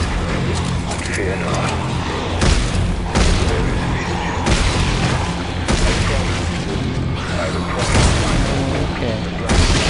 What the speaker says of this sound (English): Oh, he's shooting things at me!